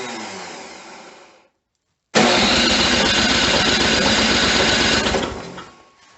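A snow blower engine cold-starts at -10°F, sputtering briefly, cutting out, then catching and running at a loud, steady buzzing roar under increasing throttle before winding down.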